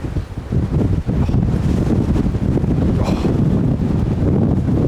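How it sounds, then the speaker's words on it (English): Extreme wind roars across an open valley, a loud continuous buffeting rush battering the microphone with gusts, deep rumbling and no pause. "But I'll take you into the wind"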